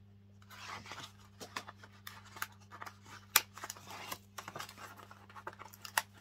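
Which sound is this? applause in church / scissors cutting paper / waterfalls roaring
scissors cutting paper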